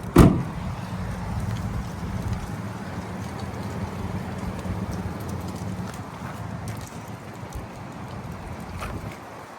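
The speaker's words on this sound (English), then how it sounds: "Starting to rain on me." Rain falling outdoors at a car lot near a 2018 Chevrolet Colorado ZR2 pickup, a steady broadband hiss and patter that runs throughout after a brief knock at the start.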